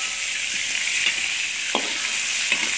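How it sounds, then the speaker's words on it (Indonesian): Salted fish frying in a pan for a rustic village dish, a steady loud sizzle of hot oil with a few soft clicks of stirring, no talking. "Kita goreng dulu sampai kekuningan ya kawan-kawan."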